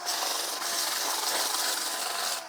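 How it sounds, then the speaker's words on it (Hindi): Drill fitted with a brush attachment scrubbing metal raw material clean, a continuous loud harsh rasping whir that runs steadily for a couple of seconds, then stops abruptly, with no talk. "तेजी से करने के लिए मैं इस ड्रिल मशीन का उपयोग कर रहा हूं क्योंकि ये फटाफट"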